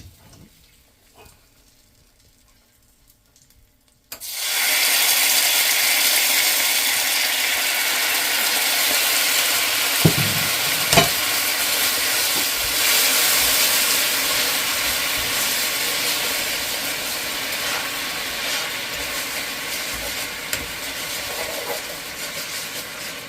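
Pork asado hitting a hot pan as sauce is added, a sudden loud, steady sizzle that bursts in after a few quiet seconds and holds for nearly twenty seconds with occasional clinks of the pan.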